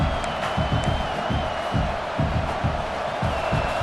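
Large football stadium crowd roaring steadily before a fourth-down play, a dense continuous wash of cheering and noise at a constant high level, with no clear individual voices.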